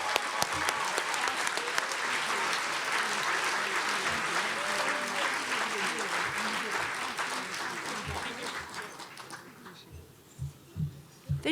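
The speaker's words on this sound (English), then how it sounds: "Can we also give a really huge round of applause for these folks behind me?" An awards gala audience gives a long, loud round of applause that thins out and fades to scattered claps near the end.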